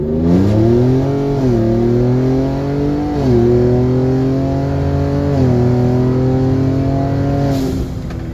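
A 2018 Ford Raptor pickup pulls hard from a standstill at full throttle, its loud engine climbing steadily through three or four gear shifts, each marked by a brief dip before the note rises again, close and continuous throughout.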